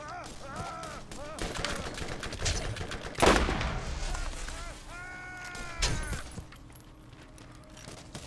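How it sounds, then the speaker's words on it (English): Video game gunfire in Borderlands: bursts of shots and impacts with one loud blast near the middle and another later, layered over game sounds and music, with a player talking throughout. "Something is shooting us really bad."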